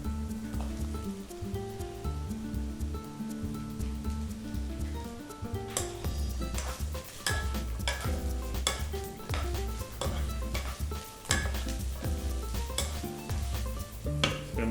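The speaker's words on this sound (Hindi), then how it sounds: "और अब ये भिंडी जो है ये डाल लेते हैं।" Okra tossed into a pan of sizzling jeera potatoes brings a steady frying hiss, with metal pan clatters and stirring scrapes building from about six seconds into repeated sharp clinks.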